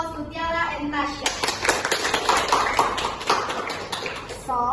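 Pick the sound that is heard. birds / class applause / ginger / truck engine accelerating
class applause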